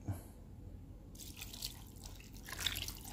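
Water is poured into a cooking pot, heard as a faint, close trickle and light dripping that picks up partway through, with no voices.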